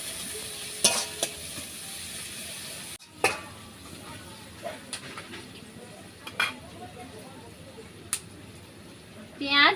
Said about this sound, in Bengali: এবার দিয়ে দিচ্ছি পেঁয়াজ কুচি। পেঁয়াজটা লাল লাল করে ভেজে নেব।